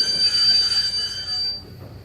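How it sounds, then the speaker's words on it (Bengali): A local train braking to a halt in the dark: a sharp, high metallic wheel squeal rides over a rumbling carriage for about a second and a half, then fades as the train settles. "হঠাৎ ট্রেনটা একটা অন্ধকারে সিগন্যাল না পেয়ে থেমে গেল"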